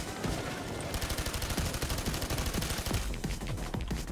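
Rapid gunfire from a two-handed weapon in the video game Payday 2, a dense stream of shots with faint crackling, rather quiet and steady throughout.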